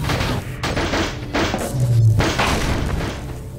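Half-Life 2 gravity gun punting objects, a series of heavy booming thumps and crashes in quick irregular succession, loud and close, with game noise between the impacts.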